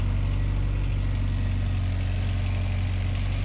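A turbocharged Honda Accord idles steadily, a constant low engine drone heard close, loud and unbroken, with no voices.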